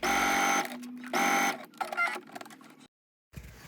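A sewing machine understitches a collar seam in two short, loud mechanical bursts of rapid stitching, followed by handling clicks, a silence and a faint restart.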